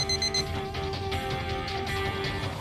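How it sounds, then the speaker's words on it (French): An alarm rings steadily and loudly throughout, its sustained electronic tones running without a break, with no talking over it. "Est-ce que tu arrives aussi à entendre le son de cette alarme?"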